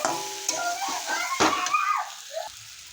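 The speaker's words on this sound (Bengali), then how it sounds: "এখন আমি জল দিয়ে দেবো পনিরের তরকারিতে" Water is poured into a paneer curry masala that has been fried down in a pan, giving a brief close hiss and sizzle with bubbling that fades within a few seconds.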